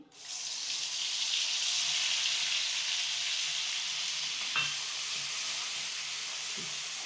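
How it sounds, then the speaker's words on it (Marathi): Fish heads frying in a pan with garlic and coconut give a loud, constant, close sizzle that holds evenly throughout, with a couple of faint knocks from stirring partway through. No one speaks. "आता हे मुंडकी इथे मी आता लसूण खोबरं टाकून घेते"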